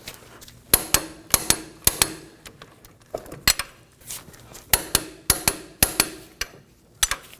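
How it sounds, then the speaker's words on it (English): Bolts on a front steering knuckle of a 2013-2019 Nissan Sentra being tightened with a torque wrench, heard as a series of sharp, close metallic clicks and clanks in irregular bursts against a quiet background. "Now I'm going to torque them to 92 foot-pounds"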